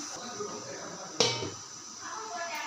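A single sharp clatter of a metal idli plate set into a steamer pot of boiling water, followed by a brief hiss that quickly fades.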